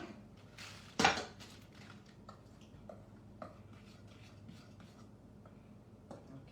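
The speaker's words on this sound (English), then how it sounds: "now I'm going to let you take this spoon and mix it all up" A spoon mixes flour in a bowl, giving soft scraping and scattered light taps with one sharper clink early on, all fairly quiet and close.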